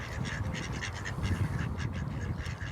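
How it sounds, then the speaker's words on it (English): Ducks quacking on a lakeside caravan site with wildlife, a steady chorus of soft repeated quacks over faint background noise, moderately distant and without speech. "And of course all the ducks on site."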